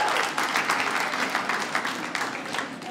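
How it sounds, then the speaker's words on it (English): A comedy-special audience claps in a thick, continuous wash of applause, fairly loud and sustained for several seconds with no talk over it. "Clap if you're the clean one tonight."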